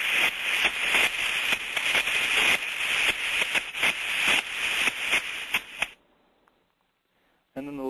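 A steam trap cycling too fast, machine gunning or motor boating: a rapid series of hissing bursts and sharp clicks in quick succession, cutting to near silence before a final burst.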